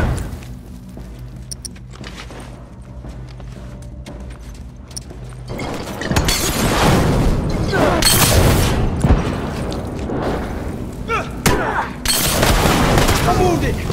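A bomb blows up in The Last of Us Remastered: after a quiet, humming stretch a loud boom erupts, followed by heavy rumbling debris and further blasts and gunfire crackling through the rest.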